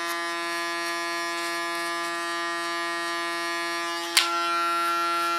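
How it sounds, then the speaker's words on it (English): Electric hair clipper buzzing steadily and close while cutting a man's hair, a constant high-pitched hum with one brief click near the end. "With my clipper as a comb, I connect to the line I just cut"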